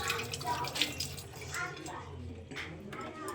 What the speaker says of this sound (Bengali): তাই হাতটা ধুয়ে নিই।